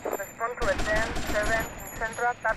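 Gunfire from a gun in the video game GTA Vice City, modded for a harder mode, crackles in short bursts of rapid shots while someone talks over much of it.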